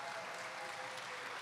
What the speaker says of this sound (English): So round of applause for class of 22